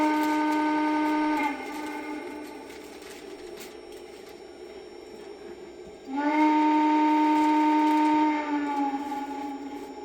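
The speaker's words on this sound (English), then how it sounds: "it has a quillable whistle, but I actually think the whistle in the TMCC version is better" A Lionel Lionmaster Class A model train steam whistle under TMCC control blows two long chords, the first fading into a quieter tone before the second loud blast.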